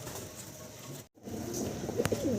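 Male Danless Satinette fancy pigeon cooing, a soft low burbling call that repeats through the clip, close by, with a brief dropout partway.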